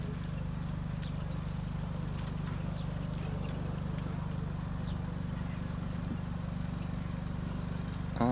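A single horse trots while pulling a carriage in an international driving dressage test at Ászár, Hungary, its hooves giving a steady, even clip-clop over a constant low hum throughout.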